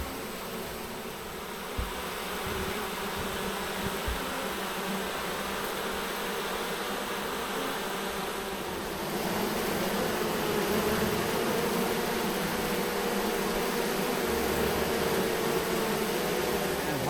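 Honeybees at a backyard hive drone in a dense, steady buzz that runs throughout and grows slightly louder partway through.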